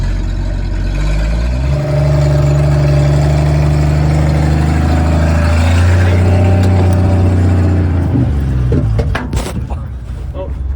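A 1962 Ford F600 truck crawls along slowly in first gear, its heavy engine droning loud and close with a steady low rumble that shifts pitch slightly, ending with some clatter and knocks.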